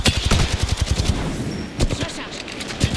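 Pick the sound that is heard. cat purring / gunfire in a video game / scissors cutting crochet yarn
gunfire in a video game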